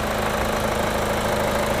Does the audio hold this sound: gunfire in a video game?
no